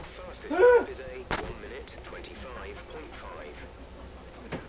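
Gunfire from a shooting video game, with a loud burst early and a sharp shot near the middle, then scattered fainter game sounds, and a voice briefly heard.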